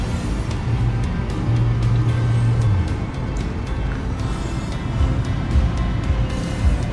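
A car cruising along on a journey, a low steady engine hum with tyre and road rumble, one sustained droning note holding for a while before the cabin noise evens out.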